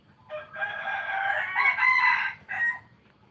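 A wild fowl crows at feeding time, one long cock-a-doodle-doo rising and falling over about two seconds, then a short final note, close and clear with no talk.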